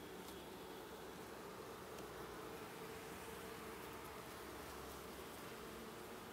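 Honeybees buzz around an open hive in an apiary during an inspection of the second colony, forming a steady, dense hum that lasts throughout without breaks, fairly quiet and close.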